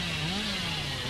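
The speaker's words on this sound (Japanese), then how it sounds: "そこ降りてチェーンソーダッシュして" Hillbilly's chainsaw revving during a chainsaw dash in the horror game Dead by Daylight, a steady loud motor drone with a pitch that rises and dips, heard alone throughout.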